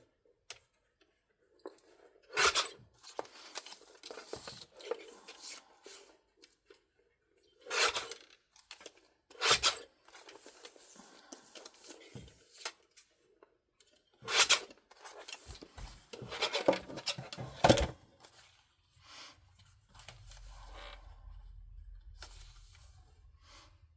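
Scissors snipping off loose threads while hand-sewing a journal signature, several crisp close cuts with rustling paper between them and stretches of near silence.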